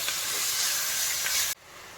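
Onion, green chili, curry leaves, coriander and mint sautéing in a pan for a jeera rice biryani and chicken curry, giving a loud steady sizzling hiss that cuts off abruptly near the end, leaving quieter background.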